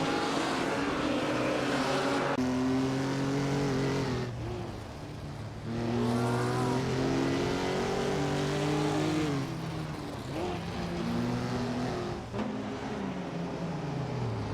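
1950s sports cars race in a simulator, engines droning and rising in pitch through gear changes, with several cars passing one after another and brief dips between bursts of revving, fairly loud and without commentary.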